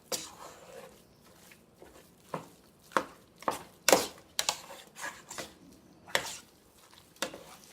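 Chili seasonings mixed with beer stirred in a pot, with repeated close scrapes and clacks of a spoon against the sides over a faint wet sizzle, no talk.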